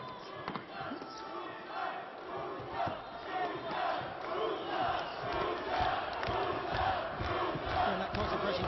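A boxing arena crowd at an amateur heavyweight bout roars and cheers in a continuous swell, rising in excitement, with a commentator's voice faintly mixed in.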